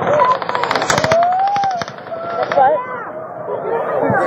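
Rapid bursts of automatic gunfire fired from the Mandalay Bay during the Las Vegas shooting, loud crackling volleys with a distant, echoing quality, under shouting and chatter from a crowd.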